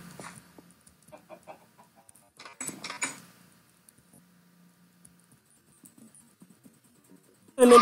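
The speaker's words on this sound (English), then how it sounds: "Lots of baby chickens." Baby chickens in the Minecraft video game give soft, short clucks and chirps in scattered bursts over a quiet background, ending in a sudden loud sound.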